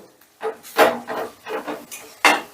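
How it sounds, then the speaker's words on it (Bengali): Cashew paste masala stirred in a pan: a few separate scraping, rasping strokes of a spoon against the pan, close and moderately loud, with short pauses between them. "কাজু বাটাটা দিয়ে কিন্তু কন্টিনিউ নাড়তে হবে না হলে তলায় লেগে যেতে পারে"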